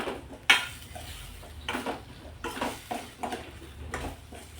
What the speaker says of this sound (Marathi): चांगले मिक्स करून घ्यायचे या मसाल्यामध्ये